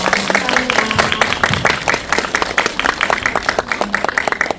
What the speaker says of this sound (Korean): 감독님과 배우님께 큰 박수 다시 한번 부탁드리겠습니다.